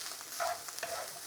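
Egg fried rice sizzling in a non-stick wok, a soft steady frying hiss with faint scraping stirs and small crackles, fairly quiet and close.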